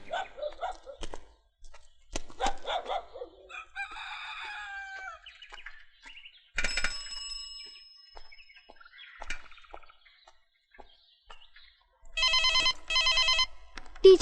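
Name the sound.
telephone ringing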